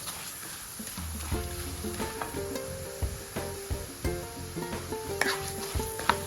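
Urad dal and chana dal shallow-fry in oil for masala dosa filling, a steady sizzle with scattered spoon stirs and pan clinks, fairly close and without talk.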